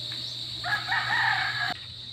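A single rooster crows once, moderately loud, over a steady low hum.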